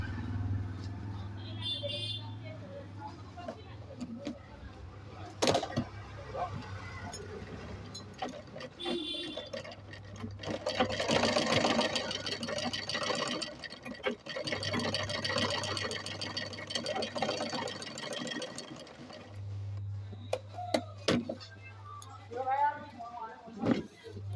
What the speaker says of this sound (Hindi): आपको मैं एक सिलाई लगा के दिखाती हूँ।